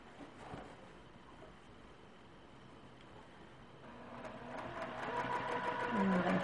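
Domestic sewing machine stitching down quilt binding and finishing with lock stitches, a steady mechanical whir that grows louder and denser toward the end, with no talk.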